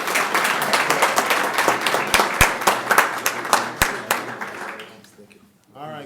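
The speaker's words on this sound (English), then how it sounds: "Please give a round of applause" A county board meeting crowd claps in a round of applause, sharp individual handclaps up close over a dense patter, thinning and fading out after about five seconds before a voice begins speaking.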